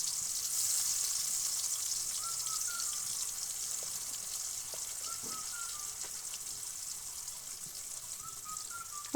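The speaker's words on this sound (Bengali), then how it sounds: "আলুগুলোকে খুব সুন্দর করে ভেজে তুলে নেব" Potato pieces fry with turmeric and salt in hot oil, giving a steady, even sizzling hiss that holds at the same moderate level throughout, with a few faint soft pops and no voices.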